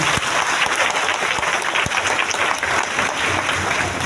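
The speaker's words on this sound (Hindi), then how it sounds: "एक जोरदार तालियां सभी के लिए" Steady, dense applause from a crowd, many hands clapping continuously at an even level throughout.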